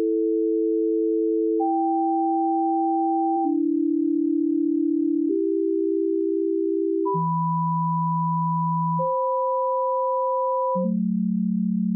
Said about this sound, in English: If you are tired of the sine wave,